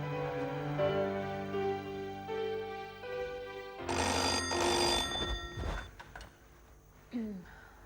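A telephone bell rings in bursts of steady electronic tones, fairly quiet indoors, followed by clunks and handling noise as the call is picked up.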